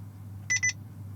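An Escort Redline 360c radar detector powering on gives two quick bright electronic beeps, close and clear over a low steady hum.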